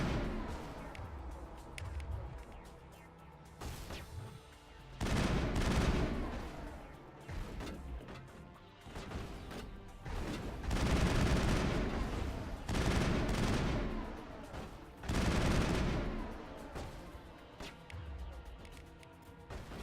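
Pistol gunfire in Mass Effect during a battle on Eden Prime: repeated bursts of sharp shots in irregular clusters, loud and close, mixed with other combat noise and occasional talk.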